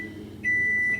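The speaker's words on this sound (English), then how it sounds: "There's the microwave for nachos." A microwave oven heating nachos gives a steady electronic beep, one sustained tone that starts halfway through and holds to the end over the low hum of the running oven.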